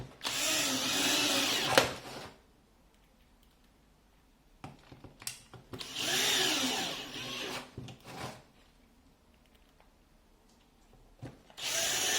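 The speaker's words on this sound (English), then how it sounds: "stick in the drill and see if it's torquey" A Ryobi 18V cordless drill whirs in three short bursts, close and loud, with quiet pauses between each run.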